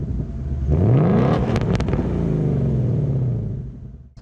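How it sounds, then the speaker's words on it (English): A Ford Mustang Bullitt engine revs up loudly, its pitch climbing then settling into a deep, steady rumble before fading, with no voices. "What do you get with the Mustang Bullitt, and why does it sound so good?"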